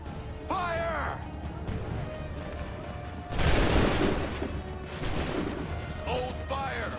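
A musket volley rings out in the Assassin's Creed III video game, a single loud, sharp broadside blast at mid-clip with a lingering crackle, while shouted voices can be heard before and after it.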